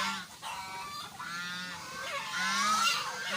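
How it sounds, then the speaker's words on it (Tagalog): Brown Dekalb chickens clucking and calling around a backyard coop, a few overlapping bird calls rising and falling over steady outdoor background noise, no talking. "Ganyan ang mga manok ko"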